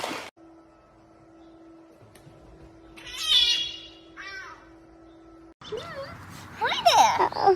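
A friendly cat meows in a couple of short harmonic calls mid-clip, fairly close, amid a faint steady hum and people speaking softly before and after.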